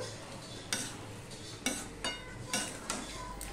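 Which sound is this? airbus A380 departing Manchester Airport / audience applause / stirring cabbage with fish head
stirring cabbage with fish head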